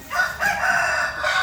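Rooster crowing close and loud in one sustained cock-a-doodle-doo, heard alone without talk.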